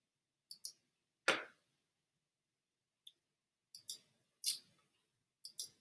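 A computer mouse clicks in short bursts: a few quick single and double clicks spread across several seconds, close and crisp, with one louder rustling knock partway through and silence between.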